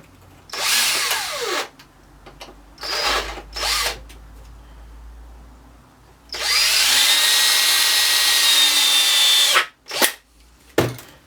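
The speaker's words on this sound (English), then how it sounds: "then we can pop the screw in here" A power drill driving a screw to fit a hinge during chalkboard construction, heard as several short whirring bursts followed by one long steady run of about three seconds, then a few quick final pulses; close and loud, with no talk.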